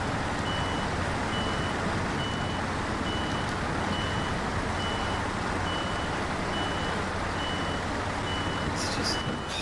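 A heavy truck in SnowRunner grinds along railway tracks with a steady, loud engine drone and rumble, while a repeating reversing beep pulses faintly throughout.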